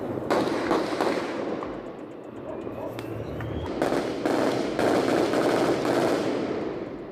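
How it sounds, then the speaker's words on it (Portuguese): Gunfire from a clash between militia groups in Taquara, Rio de Janeiro's west zone, recorded by residents: bursts of sharp shots and rapid volleys crackle at a distance over a noisy outdoor background. "Era possível ouvir de longe o som de tiros."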